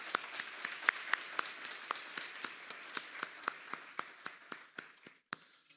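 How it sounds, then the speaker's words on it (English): Sparse, distinct hand claps from a small group at an awards ceremony in a government cabinet room, fairly quiet and thinning out to a few final claps. "One more round of applause for the winners and speakers today."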